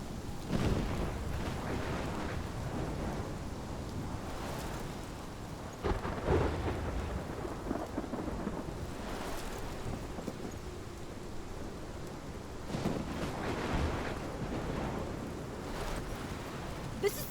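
Thunderstorm with rain in the video game Life is Strange: steady heavy rainfall and wind with rolling thunder rumbles swelling several times, loud and continuous.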